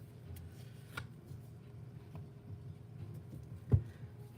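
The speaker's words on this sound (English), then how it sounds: "I can't even shuffle yet." Tarot cards are shuffled quietly, giving soft riffling and patter with a few sharper snaps over a low steady background hum.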